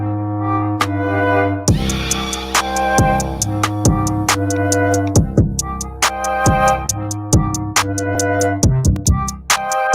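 A busy beat with sharp drum hits and crashes, while breathy flute-like melodic lines play over sustained tones, loud and continuous.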